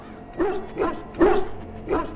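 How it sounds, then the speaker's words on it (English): Dog in the fantasy video game Dragon Age Origins, injured and being treated, gives four short whimpering yelps and barks spaced about half a second apart, close and clear with no talk. "Now I can treat the dog properly, poor fella."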